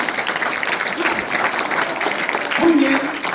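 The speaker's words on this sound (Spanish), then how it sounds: "el aplauso a Dios, hermano." Applause from a church congregation fills the room, a steady dense clapping wash lasting the whole stretch, with a voice speaking briefly over it near the end.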